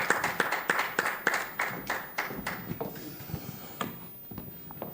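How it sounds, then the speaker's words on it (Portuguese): A small audience at a summit panel on real-estate business claps, beginning with quick brisk applause from a few hands that thins into scattered, fading claps. "Uma salva de palmas."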